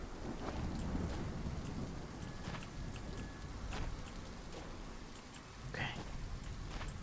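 A thunderstorm in a World War I trench horror game hisses as steady rain, with rumbling thunder and faint crackling flashes scattered through, heard fairly quietly in the background.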